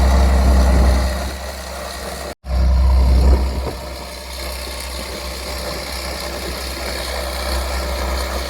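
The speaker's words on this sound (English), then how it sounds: "Turbo's just singing." An idling engine with a turbocharger whining over a steady low rumble, fairly close, with a brief dropout partway through and no talk.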